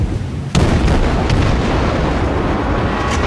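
Heavy battleship main guns boom in a World of Warships naval battle, one sharp blast followed by a dense rumbling roar with a few faint later reports, loud and close.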